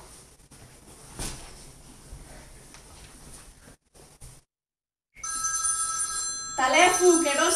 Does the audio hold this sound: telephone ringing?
yes